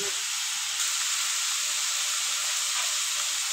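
Mustard paste and spices hitting a hot pan, a loud, steady hissing sizzle close by, continuous and bright with no pauses.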